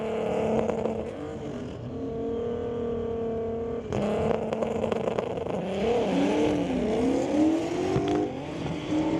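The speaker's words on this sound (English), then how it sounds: "So front wheel drive VW going up against the rear wheel drive Mustang." Front-wheel-drive VW and rear-wheel-drive Mustang launching side by side in a street-legal drag race at a raceway, engines roaring loud and close with rising revs, a sharp surge around four seconds, and pitch sweeps as the cars pull away.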